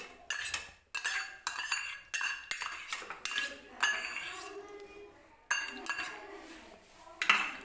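A spoon clinks repeatedly against a pot while curd is mixed into potato kurma, sharp metallic taps coming in quick bursts with short pauses between, close and fairly quiet.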